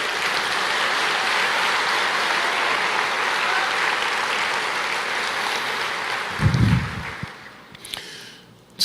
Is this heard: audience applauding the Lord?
yes